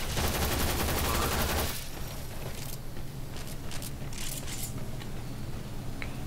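Game gunfire in the sci-fi shooter Warframe rattles loudly in a dense burst for the opening seconds, then drops to scattered softer shots and clinks over a low background hum.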